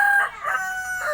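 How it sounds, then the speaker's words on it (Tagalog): Roosters crow in brief overlapping calls, fairly close and loud, over a quiet outdoor background. "So sorry sa mga manok, no? Medyo maingay dito, pati mga aso."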